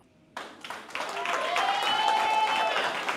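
Families cheering Thursday night after parents voted to convert Orange Center Elementary into a charter school, with scattered claps building into steady applause and cheers while people talk over it.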